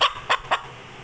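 Desi chickens in Pakistan give three quick, sharp clucks in a short burst, close by and fairly clear against a quiet background.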